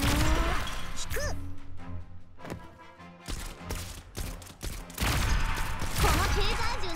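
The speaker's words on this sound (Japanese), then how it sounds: "このテーザー銃の威力、見せてやるのだ。" A taser gun fires in the Arknights video game, giving sharp, crackling bursts and thuds over a bed of game music and effects, with a loud burst near the start and more clustered hits toward the end.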